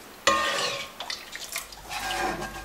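A spoon stirs and scrapes around a pot of milk slowly reducing into khoa on the stove, giving irregular close metallic clinks and soft sloshing scrapes with no talking.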